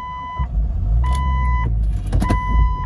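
The power windows of a 1999 Jeep Cherokee Limited run in short repeated whirring bursts, each lasting about half a second. A steady high chime and an idling engine rumble sit underneath.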